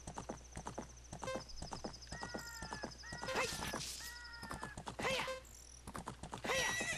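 Horse in The Legend of Zelda: Ocarina of Time, hooves clip-clopping in a quick galloping rhythm with several shrill neighs, close and fairly loud, alongside game chimes.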